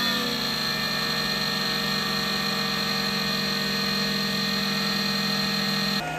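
A Geeetech A10T 3D printer running Marlin firmware drones loudly and steadily after powering up, a constant close mechanical whir with fan-like hiss that cuts off abruptly near the end, no talk.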